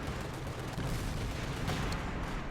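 Dense, continuous battlefield gunfire and distant artillery rumble from a Company of Heroes 2 match, with Panzer Grenadiers under heavy fire near a T-34 tank, a steady wash of shots with no pauses.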